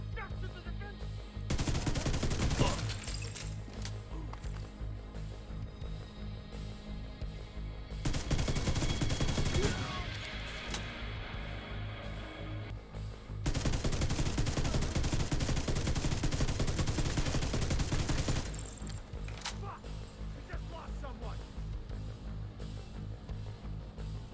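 Automatic fire from the Ravenous exotic rifle in the Division 2 video game comes as three loud sustained bursts of rapid shots, with quieter game ambience and faint effects in the gaps between them.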